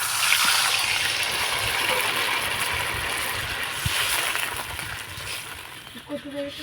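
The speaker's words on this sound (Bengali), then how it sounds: "এবার আমি দিয়ে দিব পরিমাণ মতো জল" Water pours into a pan of spiced potatoes, a loud, steady gushing hiss that runs almost the whole time before easing off near the end, with a faint clink or two.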